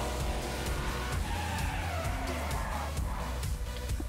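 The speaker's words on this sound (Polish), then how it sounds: "Ten dźwięk silnika jest po prostu niesamowity." A Corvette drives along with a steady, rumbling engine note heard from inside the car, accompanied by continuous road and tire noise and no speech.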